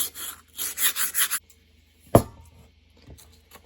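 Sandpaper with WD-40 scrubs rusty parts of a Stanley No 5 hand plane in about five quick rasping back-and-forth strokes, followed by silence, a sharp metallic knock and faint handling.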